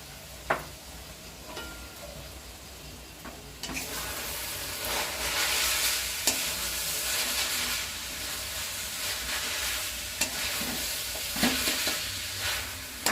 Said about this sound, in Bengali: এবার চাউমিনটা পুরো মিক্স করা হচ্ছে।